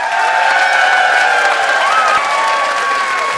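Studio audience on a comedy debate show applauding and cheering for a contestant, a dense steady wash of clapping with whoops and shouts throughout, loud and sustained.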